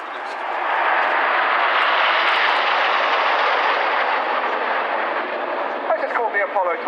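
Red Arrows jets fly a tight formation display at an airshow, a loud, sustained roar that swells and holds for several seconds before fading toward the end.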